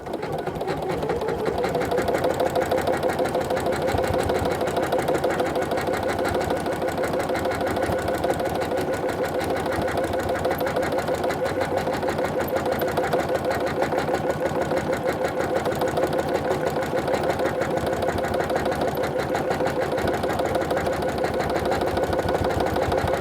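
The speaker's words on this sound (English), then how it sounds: "So we're down to the last decorative stitch. We're just going to stitch this up" A sewing machine running steadily to sew a decorative stitch onto clothing from orphan quilt blocks, a continuous close mechanical whir with a fast even rhythm and no pauses throughout.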